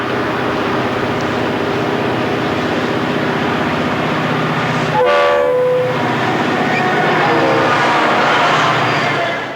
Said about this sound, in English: a blue SD40-2 is in the lead, but the trailing unit is former MoPac in full Union Pacific paint